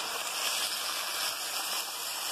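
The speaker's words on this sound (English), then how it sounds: "I'm going to add, I believe it's a 1/4 cup of water" Steady broadband rush of water pouring onto yakisoba noodles in a pan, a continuous bright splashing hiss with no pauses, fairly close and moderately loud.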